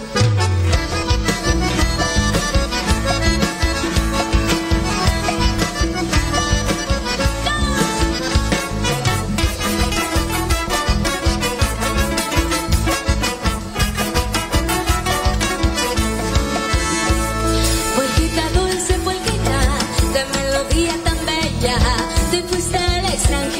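A Paraguayan polka song performed live at a serenade to the Virgin of Caacupé: dense, loud band music with a steady bouncing beat throughout, full and close.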